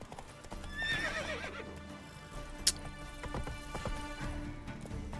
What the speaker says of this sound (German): Dieses Pferd, ne?